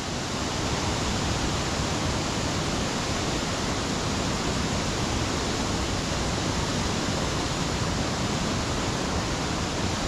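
Waterfall at Harmby roaring steadily and close, a dense unbroken wash of falling water filling the whole clip with no voices.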